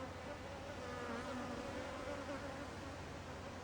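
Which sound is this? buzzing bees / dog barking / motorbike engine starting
buzzing bees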